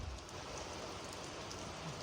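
Steady rain pours down at a railway station near Unai on a heritage train route, a dense, even hiss of water close by with no voices.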